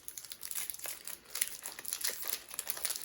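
Thick foil packaging of a 20-card Commander Legends booster pack crinkles and tears open, a steady close crackling rustle with many small sharp crunches throughout, no talking.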